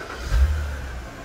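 A 2010 BMW 523i E60 LCI engine fires up with a brief low rumble that swells and then settles into a steady idle, heard close by.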